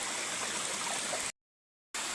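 A household water spout pours in a steady, moderately quiet rushing stream that cuts to silence for about half a second before resuming.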